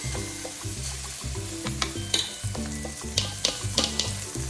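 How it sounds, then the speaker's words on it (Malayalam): Rice fries in homemade ghee with a dense, steady sizzle as a spoon stirs and scrapes the pan in repeated strokes, loud and close, with no voices. "ഇപ്പൊ നമ്മള് അരി വറക്കാണോ?"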